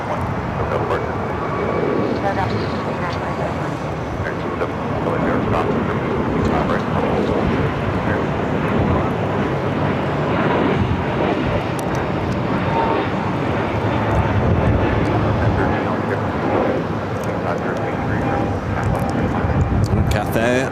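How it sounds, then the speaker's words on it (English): A United Airbus A321neo airliner takes off at LAX, a loud sustained jet engine roar holding steady for about twenty seconds, with wind rumble and a voice talking over it. "Cathay next, actually number 2 for takeoff following this United"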